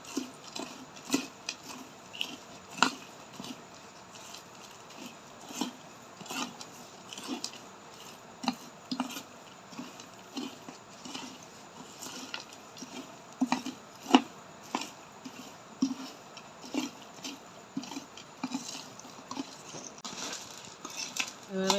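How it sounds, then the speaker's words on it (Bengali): A spoon mixes fried chickpea-lentil chanachur with dried fish powder in a bowl, making steady, repeated dry clinks and scrapes in an uneven rhythm at moderate loudness. "এবার চামিচ দিয়ে ভালো করে মিশিয়ে নিব উপকরণগুলো"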